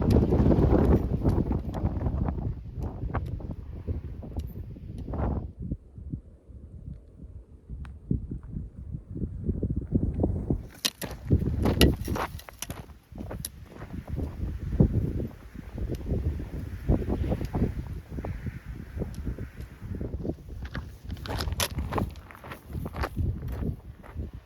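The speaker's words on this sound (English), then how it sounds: "man, it is windy" Strong wind gusts across a desert mountain canyon in Guadalupe Mountains National Park, roaring and buffeting the microphone steadily, with footsteps crunching on the trail underneath.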